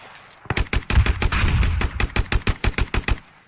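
Video game gunfire comes as a loud, close string of separate shots, about twenty cracks in roughly three seconds. The rhythm is irregular at first, then settles into steady, evenly spaced shots, with no speech.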